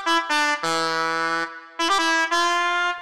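Bright, buzzy synth lead built in FL Studio, playing a short melody of sustained harmonic-rich notes with a brief pause in the middle, heard alone and clear.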